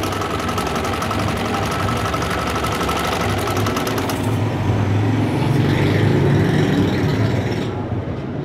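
An electric sewing machine stitches fabric with a steady, fast mechanical whir and rapid needle chatter throughout, loud and close, shifting slightly in tone midway with no talking.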